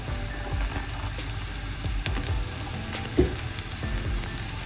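Onions frying in a pan for a carrot and curry-chili milk curry: a soft, continuous sizzle close by, with light stirring clatter and one brief knock near the end, no talking.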